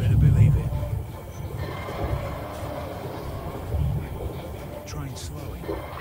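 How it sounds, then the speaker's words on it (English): Train in Crysis Warhead rumbling along and slowing, a low heavy rolling rumble with fluctuating swells and faint metallic clatter, muffled voices mixed in underneath. "Train slowing"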